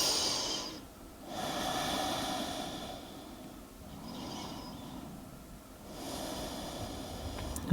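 Slow, deep breaths during a yoga flow, with long airy inhales and exhales swelling and fading close by in a calm, quiet room.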